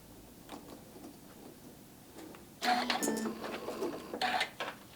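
A sewing machine stitches a short back tack on an Easter basket project, starting after a quiet stretch with a rapid close mechanical clatter that runs for about two seconds, briefly changes pace, then stops.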